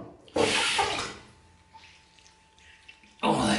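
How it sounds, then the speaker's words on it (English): Tap water runs briefly into a basin during a wet shave, a short splashing gush, a quiet pause, then another burst of running water, close by with no talk over it. "Just put some more water on."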